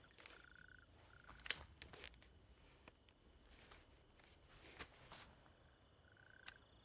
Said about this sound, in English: you get to listen to the sounds of the crickets